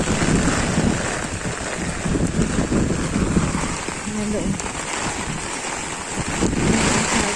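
Strong typhoon wind from Typhoon Amang sweeps across open rice fields in Bicol, a loud continuous roar with gusty buffeting against the microphone, and a voice speaks briefly over it.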